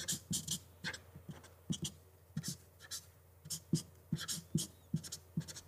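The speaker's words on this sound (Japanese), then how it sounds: "いきなり文字を書き始めましたが、" Thick oil-based marker pen writing on paper, a series of close, distinct scratchy strokes and squeaks in irregular bursts with short pauses between them, recorded quietly with no talking.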